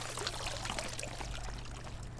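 Water flows and pours steadily in the Horizon Zero Dawn game, a continuous close rushing wash with small splashy trickles that stays even for the whole stretch.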